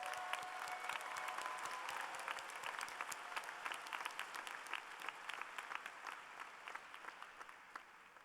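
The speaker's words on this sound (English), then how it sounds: "give all of these students who received honors and highest honors a welcome round of applause" Applause at a UCLA political science commencement ceremony, a large audience clapping steadily and densely from a distance, fairly faint and sustained throughout.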